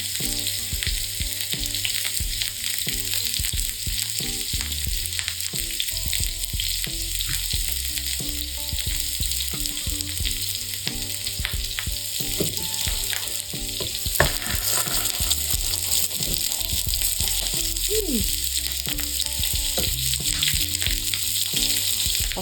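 Onions and peppers fry steadily in a hot pan for Philly cheesesteak sliders, a loud, even sizzle throughout with occasional soft stirring clicks and no talking.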